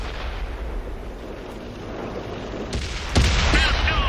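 Tank cannon fire in World of Tanks from an Object 140 medium tank, a sharp loud boom near the end of the clip over a steady battle rumble.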